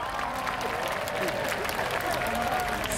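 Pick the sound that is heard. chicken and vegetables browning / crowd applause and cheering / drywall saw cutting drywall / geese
crowd applause and cheering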